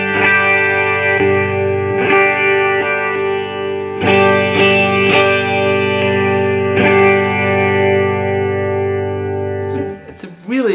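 Chiming 1966 Fender Electric XII electric 12-string guitar playing sustained, shimmering chords with repeated strums, bright and close, ringing out alone before a brief change near the end.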